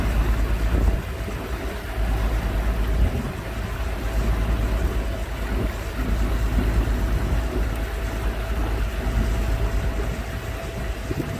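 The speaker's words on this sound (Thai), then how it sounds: "ล่องเรือข้ามสะพานน้ำจ้า" A boat cruises across a water bridge, its steady engine drone and rushing wind and water filling the scene continuously, loud and close with no voices.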